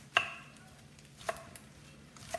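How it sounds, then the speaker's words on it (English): Leeks chopped with a knife on a board: three sharp, separate chops spaced about a second apart, close and crisp, with quiet between them. "we are gonna start chopping our leeks"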